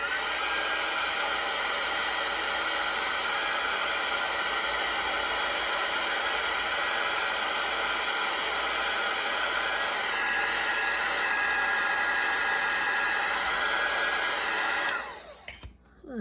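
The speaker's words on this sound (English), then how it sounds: "I'm going to use my heat blower, and I'm going to dry that" A heat blower runs steadily to dry paper on an altered playing-card journal, a continuous close whooshing hiss held for about fifteen seconds before it cuts off with a brief clatter.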